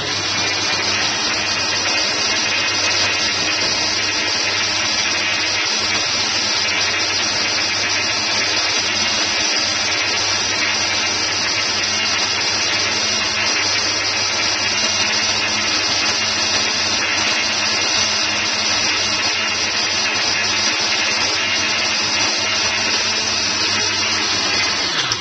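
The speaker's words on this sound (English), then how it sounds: "Put it on my blender" An old, cheap blender whirs steadily while blending a green smoothie, a loud continuous motor drone with a high-pitched whine that holds unchanged for the whole stretch, with no talking.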